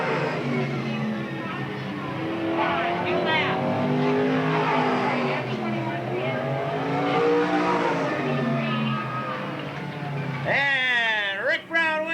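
Race cars roar through the final lap at Eugene Speedway, engines revving and passing continuously under an excited announcer's commentary, with a sharp rising whine of a car near the end.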